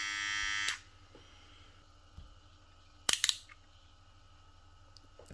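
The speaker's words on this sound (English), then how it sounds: "So first of all, let's try the trimmer." A Ufree U1257 electric hair trimmer buzzes loudly and close for under a second, then switches off, followed by faint handling clicks and taps in a quiet room.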